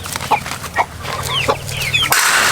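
An angry mother hen clucks sharply at close range, a run of agitated, uneven clucks and squawks with a faint higher chirp in the background.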